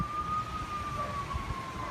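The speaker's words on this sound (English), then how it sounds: "there goes all the sirens" A distant siren carries a steady, slightly falling wail through a windy outdoor setting, faint against the broad rushing background, with no talking.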